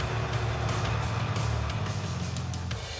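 A car with an automatic transmission shifting too early is driven at low speed, its engine droning steadily close by with a low rumbling note and slight changes in pitch, no talk over it.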